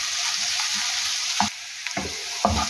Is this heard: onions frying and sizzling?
yes